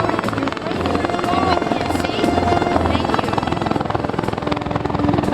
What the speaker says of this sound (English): In addition to search and rescue missions, the Griffin helicopter is also used for surveillance and reconnaissance.